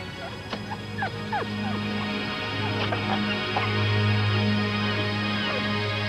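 Small pug puppy crying and whimpering from inside a sewer pipe, thin high yips and whines repeating over a steady low hum, muffled and somewhat distant.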